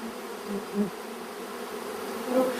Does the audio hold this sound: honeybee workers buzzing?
yes